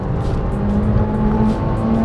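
A Citroen Saxo Cup 1.6 16v hatchback on 185 tyres drives through a corner, its engine droning loudly from inside the cabin with a steady, slightly rising hum and faint tyre noise.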